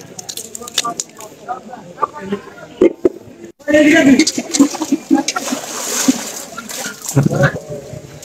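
Water flows and splashes from a spring-fed well at Baideswar Temple in Choudwar, an uneven sloshing and spattering that grows louder partway through while people talk over it.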